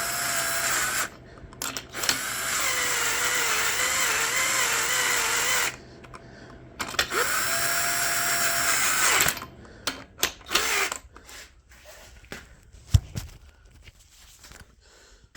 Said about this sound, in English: Just electric drill with the almost dead battery.